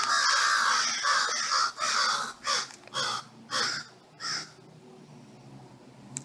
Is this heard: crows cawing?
yes